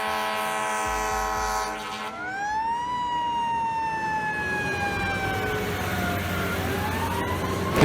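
A fire truck's wailing siren sounds loud and close, sweeping up and then slowly falling in pitch over steady engine and road rumble, with no talking.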